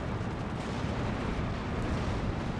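Heavy 155 mm artillery shells detonate in the WWII strategy game Steel Division 2, a dense continuous rumble of blasts and distant gunfire blending into one loud, sustained roar without any clear individual booms.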